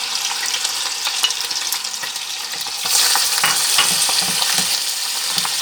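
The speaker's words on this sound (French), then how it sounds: "J'y ajoute l'oignon émincé, les 2 oignons émincés." Meat and two finely sliced onions fry in a pan for a chicken couscous, giving a steady close sizzle that swells louder about halfway through, with light stirring scrapes and no voices.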